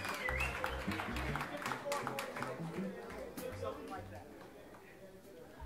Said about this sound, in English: How about a nice round of applause for the band one more time?